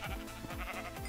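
Sheep in Minecraft give a few short, quiet bleats in quick succession, with no talking over them.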